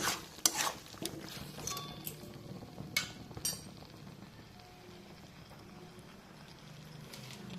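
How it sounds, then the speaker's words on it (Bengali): Fried potatoes and slit green chillies are stirred into a Bengali fish curry in a pan, with soft scraping and a few sharp clinks of a spoon over a quiet, low sizzle. "দিয়ে দেবো চেরা কাঁচা লঙ্কা, দিয়ে আবার আমি ভালো করে কষিয়ে নেব।"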